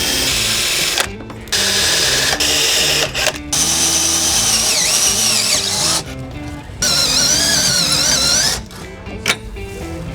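A spot drill cuts out spot welds on a steel roll cage bracket in a race car build, a loud steady whine with squealing bit chatter, broken by a few short pauses between welds.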